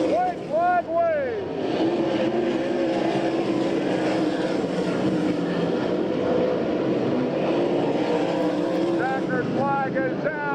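Sprint cars racing on a dirt track in an All Star Circuit of Champions heat at Abbottstown, Pennsylvania, making a continuous engine roar with rising and falling whines as cars pass, and a voice heard over it.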